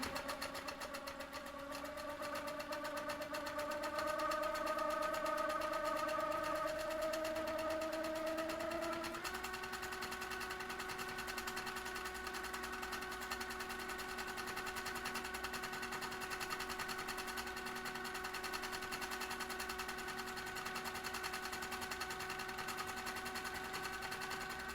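A domestic sewing machine runs steadily, stitching a continuous chain of hearts onto a quilt; its motor hum holds one close, unbroken drone that shifts pitch once partway through.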